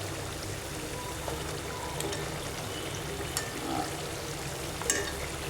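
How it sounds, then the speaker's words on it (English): Khaja sweets sizzle in hot oil, a continuous close frying hiss with occasional small pops and a faint clink near the end. "Now our kajas is also fried."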